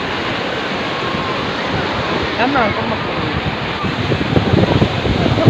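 Sea waves wash steadily against the shore under strong wind buffeting the microphone, growing rougher toward the end, while a voice speaks briefly over the surf.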